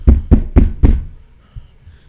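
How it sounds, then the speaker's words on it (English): Four heavy, evenly spaced pounding knocks on a door, close and loud, then a couple of faint thumps in the quiet afterward. "they're starting to pound at the door"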